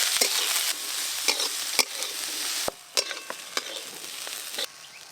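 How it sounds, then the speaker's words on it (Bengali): Carrots and beans fry together in a hot pan for fried rice, a loud, dense sizzle punctuated by regular scraping and clacking stirs of a spatula. "গাজর আর বিনস একসঙ্গে ভালো করে ভেজে নেব।"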